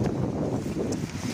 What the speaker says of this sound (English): It's so super windy.